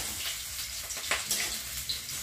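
Hot oil sizzles and splatters steadily in a pan on a home stove, a loud continuous hiss with a few sharper crackling pops, close and without talking.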